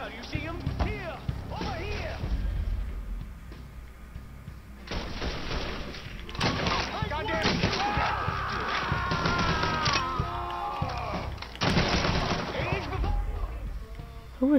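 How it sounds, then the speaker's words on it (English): An enemy fires a gun in Mafia 3, short bursts of shots and hard impacts recurring among game sounds while someone talks. "Was that him shooting at me?"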